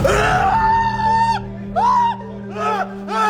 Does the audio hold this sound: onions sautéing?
no